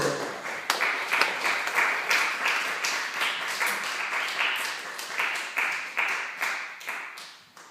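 A church congregation claps steadily, many hands together in rapid rhythmic applause, loud and close throughout with no talking.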